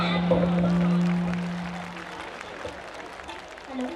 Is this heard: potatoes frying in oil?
no